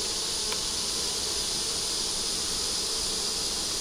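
Honey bees buzz steadily around a frame pulled from a deep eight-frame hive box, a dense continuous hum with no talking.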